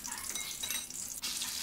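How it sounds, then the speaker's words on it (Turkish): Leeks coated in dough fry in hot oil, giving a steady, close crackling sizzle with a brief shift in texture partway through and no voices. "pırasalarımızı hamurla kapladık ve kızgın yağda güzelce kızartıyoruz"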